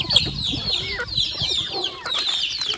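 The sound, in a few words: sick chicken clucking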